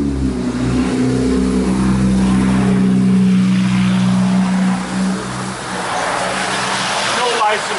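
An unmuffled Kawasaki KLR dual-sport motorcycle engine drones and revs nearby, its pitch climbing and then fading under continuous talk.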